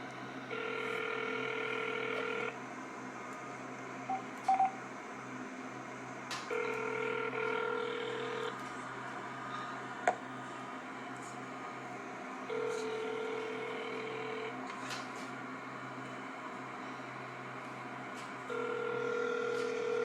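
A telephone call being placed to an attorney's office, with steady ringback tones repeating in long even bursts between quiet gaps and a few short clicks, heard alone.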